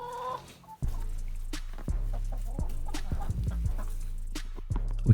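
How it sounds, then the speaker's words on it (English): A rooster clucks among a flock of chickens in repeated short, close calls, with low throaty sounds and bursts of clucking across the clip. "Welcome to the flock, Rooster."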